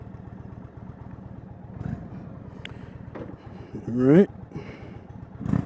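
A Springfield Darkhorse motorcycle idles with a low, pulsing engine rumble and then briefly revs to a rising roar before dropping back. The engine is close, and someone speaks over it.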